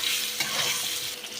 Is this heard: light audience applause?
no